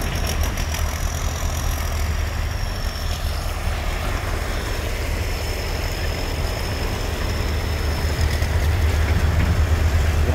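A sand pump engine runs steadily at a construction materials yard, a continuous low rumbling drone with a faint knocking pulse, no voices.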